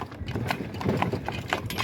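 A horse's hooves clip-clopping at an even walking pace on hard ground, close by and moderately loud, with a little background noise.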